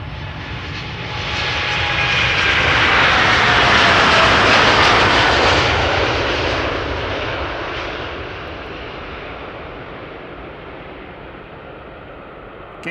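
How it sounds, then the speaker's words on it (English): A KLM Dreamliner airliner departs at Amsterdam Schiphol Airport, its engine roar swelling from a distance to a loud broadband rush, then slowly fading away as it climbs off. "KLM Dreamliner underway."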